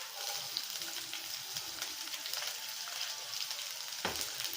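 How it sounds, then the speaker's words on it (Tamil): Onion drops into hot oil in a pan for masala maggi and crackles in a dense, even, close sizzle throughout, with no talking. "எண்ணெய் சூடாயிடுச்சு, நம்ம ஆனியன் போட்டுக்கலாம்."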